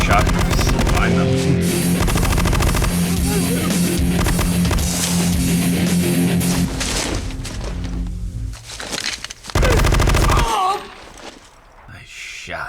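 Gunfire from the Hindi war film Lakshya: dense, rapid bursts of loud shots and cracks, with voices mixed in, fading to quieter sound near the end.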